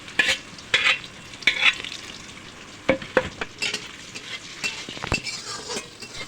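Pabda fish fry in hot oil in a pan, a steady sizzle broken by repeated clinks and scrapes of a spatula turning the pieces, close and with no talking.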